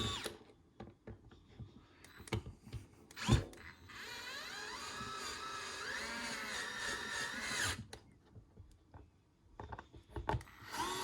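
A small handheld power screwdriver whirs close up while driving screws back into a koi pond air pump, one sustained run of several seconds framed by clicks and handling knocks.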